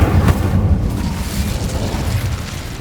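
Incendio fire spell cast in Hogwarts Legacy: a loud, close burst of flame with a deep boom at the start that rumbles and crackles away over a few seconds.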